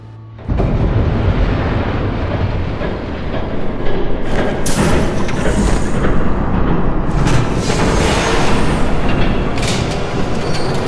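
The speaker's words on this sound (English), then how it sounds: "There's a train coming." A train roars past in a Batman video game, a loud, dense, continuous rumble lasting throughout with sharper clanking bursts midway and near the end.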